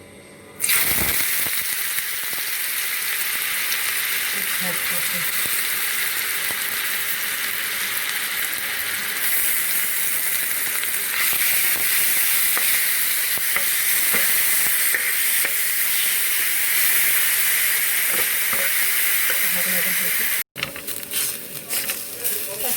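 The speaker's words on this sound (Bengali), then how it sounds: "তেলটা গরম হয়ে গেছে, ফ্রাই প্যানে তেল দিয়েছি। আর আমি এখানে আছে আলু, পেঁয়াজ, কাঁচা লঙ্কা গ্রেট করা আছে। এটা আমি এখন ছাড়বো" Grated potato, onion and green chilli fry in hot oil in a frying pan, a loud continuous sizzle with stirring scrapes, while a voice talks over it before a brief cut near the end.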